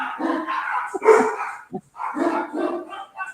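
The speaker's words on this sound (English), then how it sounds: "stupid dogs." Dogs barking up close in several sharp bursts, with a brief yip between them and a faint whimpering edge, loud and alone without speech.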